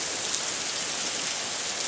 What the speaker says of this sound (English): Torrential rain in the streets when it focuses.